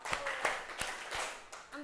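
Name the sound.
rhythmic hand clapping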